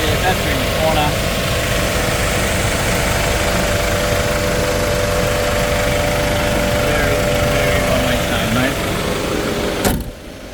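A 2022 LDV T60 Max Luxe 4x4 with its turbo engine idles in a steady, dense, loud drone with a faint tonal whine. The rumble holds unbroken before cutting off abruptly near the end.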